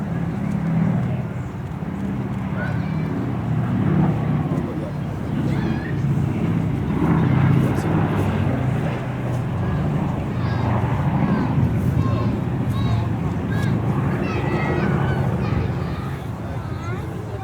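The B-17 bomber Sally B drones overhead at the Duxford autumn air show, a low, steady rumble of piston engines blending with wind and crowd noise while a commentator talks throughout.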